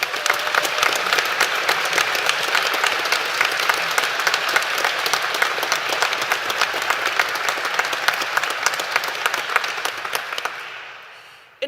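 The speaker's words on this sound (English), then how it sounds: "Please join me in thanking them in the traditional way with a rousing round of applause." A graduation ceremony audience in a university hall breaks into long, rousing applause, with dense, sustained clapping that holds steady for about ten seconds before fading out.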